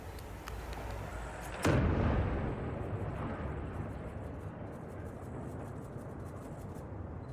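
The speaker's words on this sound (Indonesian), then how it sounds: "Tentara Zionis Israel meledakkan rumah warga Palestina almarhum Mahmud Al-Aqdad di Jalan Halawa di Nablus tepi barat Sabtu siang" Israeli soldiers blow up a Palestinian house on a street in Nablus in the West Bank: one sudden, sharp blast partway through, followed by a fading rumble and faint distant background noise.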